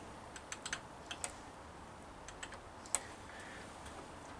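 The rear brake adjuster on a Rover P6 V8 is ratcheted by hand, giving a run of faint, sharp, irregular clicks over a quiet background, close and alone with no voices.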